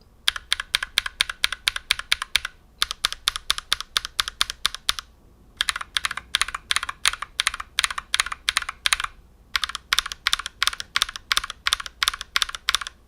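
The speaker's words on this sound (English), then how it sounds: "Let's go ahead and install each for a quick sound comparison." Rapid clacky keystrokes from a Glorious GMMK Pro mechanical keyboard with Glorious Panda switches and GMK keycaps, close and crisp, in fast bursts separated by brief pauses.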